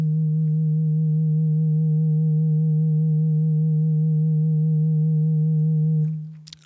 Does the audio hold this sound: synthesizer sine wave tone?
yes